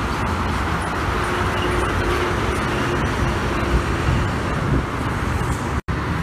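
Steady heavy road traffic with a large truck rolling past on a Sumatran highway, a continuous loud engine and tyre roar that fills the clip without pause.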